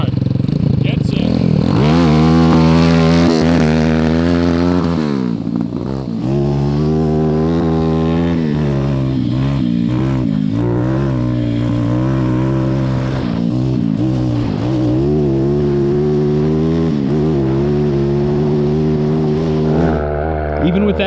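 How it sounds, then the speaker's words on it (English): A 190cc shifter kart engine with a double muffler screams loudly on a hot lap. It revs hard and steadily with repeated rising and falling pitch sweeps as it shifts and brakes, close and continuous throughout. "Even with that double muffler, it's still on the loud side."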